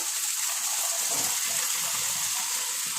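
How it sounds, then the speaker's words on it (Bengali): Sauces mixed in water poured into a pan for paneer chilli corn masala, a steady close gush of liquid that keeps up without a break, with no voices. "সসটাকে আমি ঢেলে দেবো আর খুব ভালো করে আমি এটাকে মিশিয়ে নেব"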